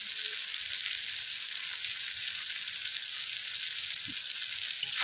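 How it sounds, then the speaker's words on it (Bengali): Ginger and garlic fry in a pan with two spoons of chili powder for a chicken curry, a steady close sizzle that hisses continuously with a few faint stirring knocks underneath. "আদা রসুন ভালোভাবে ভাজা হয়ে গেছে, এরপর 2 চামচ লঙ্কার গুঁড়ো দিয়ে দেন।"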